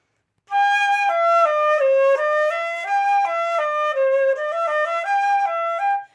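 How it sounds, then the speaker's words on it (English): A flute with the head joint pushed in, sounding sharp, plays a melody of sustained notes, bright and clear, close up with no other sounds. "So you can hear that sharper."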